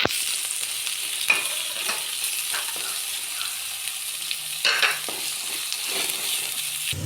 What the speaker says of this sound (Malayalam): രണ്ട് തക്കാളി അരിഞ്ഞ് വെച്ച് ചേർത്ത് കൊടുക്കാം ചേർത്ത് ഒന്ന് വഴറ്റാം